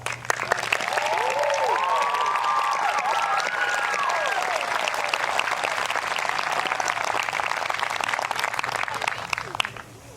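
Sustained, dense applause from a school audience at an eighth grade promotion ceremony honoring a standing advisory class, steady and full for about ten seconds with a few whistle-like cheers early on, fading slightly at the end.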